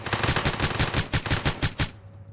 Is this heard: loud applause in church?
no